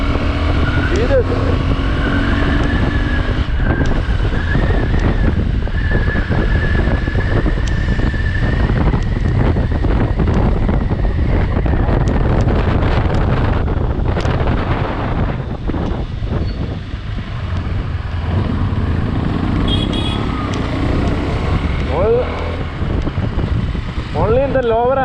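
A KTM 390 Adventure motorcycle cruising on a highway, a steady engine drone under heavy wind buffeting on the microphone, with a rider's voice talking over it throughout.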